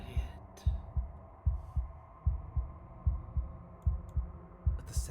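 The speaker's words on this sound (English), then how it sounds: "a wooden and fleshy heart beating with an unbroken rhythm" A wooden, fleshy heart at the center of the Slay the Princess game world thumps in a steady, unbroken rhythm of low double beats, about seven pulses over a soft background hum, with no talking.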